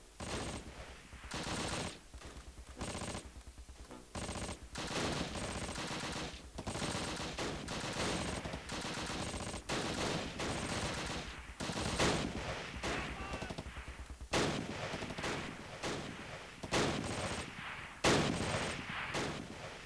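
Bursts of machine-gun fire and rifle shots in the Close Combat wartime strategy game, dense and loud, running almost continuously with brief gaps between volleys, no talking.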